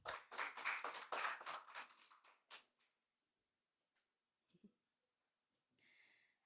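Applause for a sponsor breaks out at a sponsor reveal and cheque handover, a short burst of quiet clapping that fades within about three seconds, leaving a few faint knocks and rustles.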